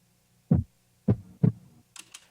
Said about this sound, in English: I just sampled a bunch of heartbeat sounds that I found on Splice.